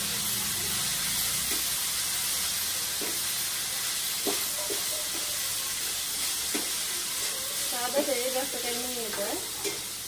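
A home-cooked vegetable dish with masala fries in a pan, giving a steady loud sizzle and hiss with intermittent scraping stir strokes, while a voice speaks faintly in the background near the end.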